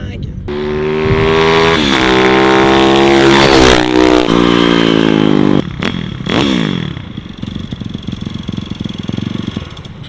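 A tuned 50cc moped pulling a wheelie, its small engine revving hard and high in rising and falling surges before it drops back and fades, with someone talking over it.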